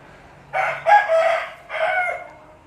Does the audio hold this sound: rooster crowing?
yes